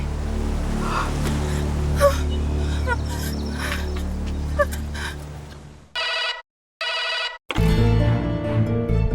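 Background music and ambience play before a telephone rings in two short bursts, then music swells back in loudly.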